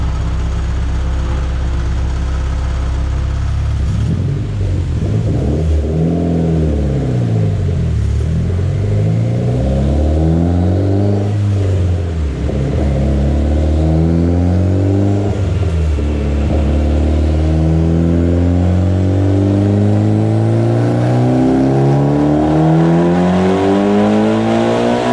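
A turbocharged Mitsubishi Evo X engine on E85 fuel revs hard again and again, pitch sweeping up and down in long loud pulls, close and continuous with no talking.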